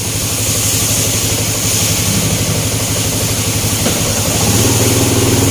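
A Yamaha EX150 motorcycle fitted with a 60mm ceramic cylinder runs loud and close, its engine holding a steady buzzing drone with slight rises in pitch and no talking.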